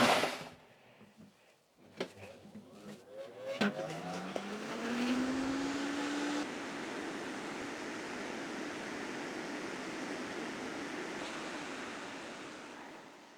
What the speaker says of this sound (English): So let's turn it on the full power, and let's see how long it takes to clean the air.